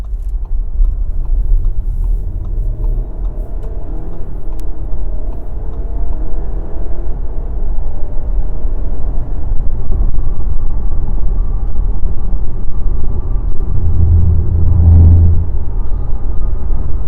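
A 2018 Audi Q5 merges onto a freeway, heard from inside the cabin as a steady low road rumble and engine drone building slightly, with a deeper thump of passing traffic or road texture near the end.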